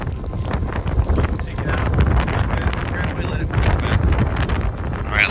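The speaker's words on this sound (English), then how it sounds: "Wind's coming down to the right." Strong wind gusting across an open seaside golf course at Chambers Bay, buffeting the microphone in a loud, continuous roar with low rumbles throughout.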